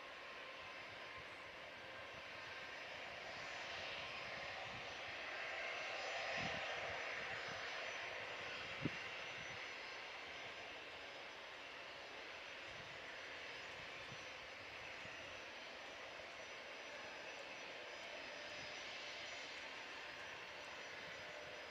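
A jet airliner at Manchester Airport on the runway, engines spooling up into a steady, distant whining roar that swells and fades slightly, with one faint knock midway and no voices.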